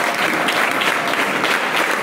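A standing audience claps in a thick, unbroken wash of applause, loud and close, holding at an even level from start to finish.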